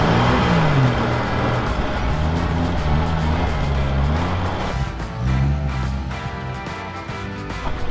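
An old Toyota Land Cruiser engine, left unused for 45 years, runs loudly and close with a rough, steady drone while the throttle is pumped, its pitch rising and falling in waves before settling lower.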